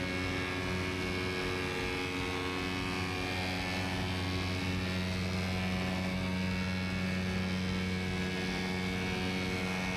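A two-stroke paramotor engine runs steadily and close through a tandem paraglider flight, a loud continuous drone with strong tonal hum and no pauses, no voices over it.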